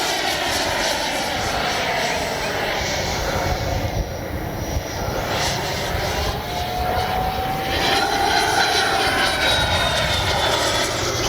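A Freewing Avanti S 80mm electric ducted-fan RC jet plane flies overhead, its loud, steady high-pitched whine swelling and shifting as it passes, close and continuous for the whole stretch.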